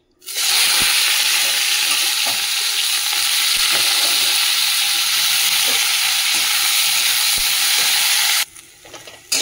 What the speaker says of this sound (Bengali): চলো তেল গরম হয়ে গেছে, আলুটা দিয়ে দিই।